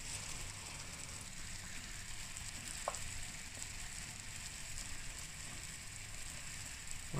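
Food frying in hot cooking oil in a pan for a homemade dish gives a soft, steady sizzle with a few faint clicks and scrapes, heard alone and fairly quiet.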